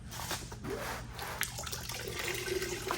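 Antifreeze coolant drains out of a 1974 Nova into a container, a continuous close gushing, splashing flow of liquid that wavers slightly in strength, with no voices.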